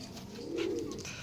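Kalanka or Fulsira pigeons coo while being handled, a steady low rolling coo close by that swells in the middle, with no talk over it.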